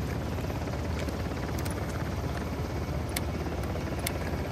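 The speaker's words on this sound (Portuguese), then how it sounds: "Alguma bazuca, alguma coisa de derrubar esse helicóptero." Helicopter in the video game Uncharted: The Lost Legacy, a steady loud rotor and engine drone that fills the whole stretch with constant broadband noise and faint sharp ticks on top.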